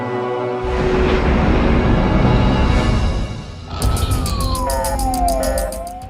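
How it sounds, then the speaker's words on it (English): Emergency sirens wailing loudly in a TV drama scene, a sweeping siren tone rising then falling over dense engine and street noise, with a rapid pulsing alert joining in. "Okay, we got ambulances."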